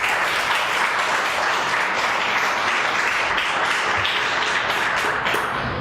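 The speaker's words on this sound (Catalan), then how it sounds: "Un fort aplaudiment per a ells." A large audience applauds at a summer school event on music for a string quintet and its artistic coordinator, with dense, steady clapping that stays loud and continuous throughout, no voices over it.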